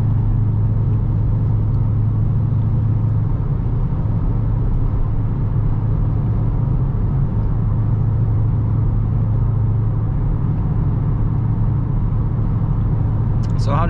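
A new Dodge Charger cruising on the road, heard from inside the cabin as a steady low engine and road rumble, with a voice speaking over it.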